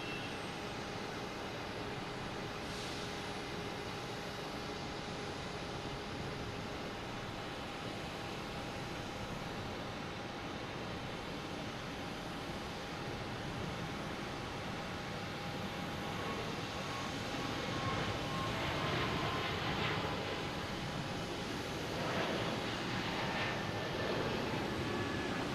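A JetBlue Airbus A220 departs Boston Logan bound for Fort Myers, its steady distant jet roar filling the air and swelling slightly toward the end, with no voices present.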